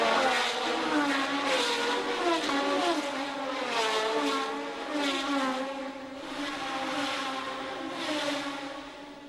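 1970 Formula One race cars at the Monaco circuit scream past one after another, high-revving engines rising and falling in pitch with each pass, loud and fairly close with a continuous roar between passes.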